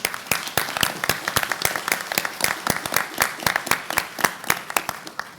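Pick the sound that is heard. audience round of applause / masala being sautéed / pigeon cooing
audience round of applause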